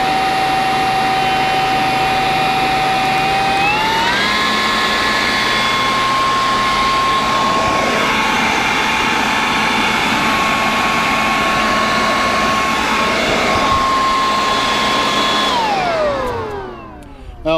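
A Sun Joe iON cordless 3-in-1 blower vacuum mulcher runs with a loud, steady motor whine that steps up in speed twice, holds, then spins down at the end.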